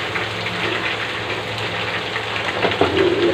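Potatoes and pointed gourd fry together in hot oil in a pan, a steady, even sizzle with a few brief louder crackles near the end.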